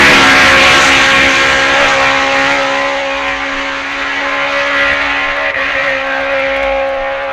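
A racing motorcycle on the 1965 Isle of Man TT course roars steadily and loudly at speed, engine note sustained throughout as it passes in foul weather.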